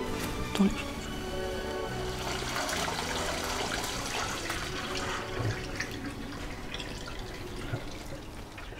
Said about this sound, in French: maintenant on va égoutter les nouilles